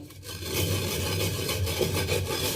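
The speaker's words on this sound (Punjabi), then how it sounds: "ਜਿਹੜਾ ਆਪਾਂ ਦੌਰੀ ਸੋਟੇ ਦੇ ਵਿੱਚ ਇਹਨੂੰ ਆਪਾਂ ਰਗੜਦੇ ਆ" Spices for a lemon and chili pickle being ground in a mortar and pestle, giving a steady, continuous rubbing and scraping close by, with no talk.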